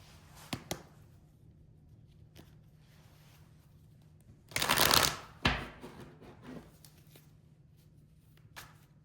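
Tarot cards being shuffled: a dense, papery riffle of about a second stands out in a quiet room, with a few soft isolated card taps and handling clicks before and after.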